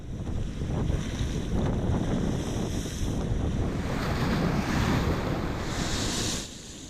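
Sea waves break and wash steadily along an Albanian shore, a loud continuous surf roar mixed with wind buffeting the microphone, easing off at the very end.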